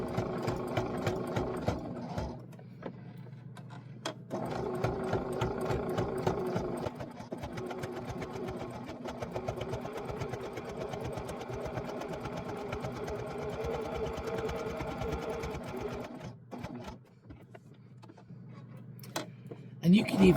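A sewing machine stitches a scrappy fabric heart bookmark, running steadily for most of the stretch with a brief pause near the start and another toward the end, while a person talks over the mechanical whir.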